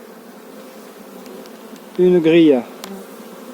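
A colony of honeybees in a hive hums steadily throughout, with a louder, sharper surge of close buzzing partway through; someone speaks briefly over the hum.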